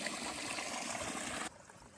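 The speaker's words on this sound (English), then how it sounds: "Getting water from the best flowing source we've probably seen all trail." Cold water flowing from a strong stream source along the Appalachian Trail, a close steady trickle and splash that cuts off abruptly to a quieter background near the end.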